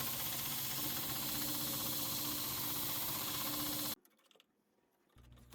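A Grizzly 2x42 knifemaking belt sander runs at a steady, loud whir with a smooth hum for about four seconds, then cuts off abruptly to near quiet before a low hum returns.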